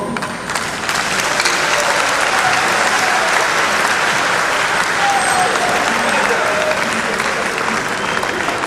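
A lecture-hall audience applauding at the close of an inaugural lecture on weather and pollution, a dense, sustained wash of many hands clapping that swells in and holds steady throughout, with faint crowd murmur.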